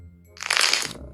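Crispy honey candy crunches once in a short, close, crisp crackle that rises and fades within a second in an otherwise quiet moment.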